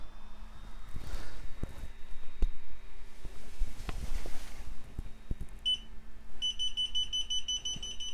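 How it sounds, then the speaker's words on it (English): Eachine EV200D FPV goggles beep during a firmware update: a short beep, then a run of rapid, evenly spaced electronic beeps near the end, after some earlier clicks and handling noise. "Lots of beeping."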